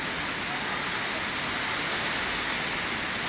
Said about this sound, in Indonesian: Apalagi saat-saat cuaca gak bagus kayak gini. Pontianak ini sangat sering hujan ya.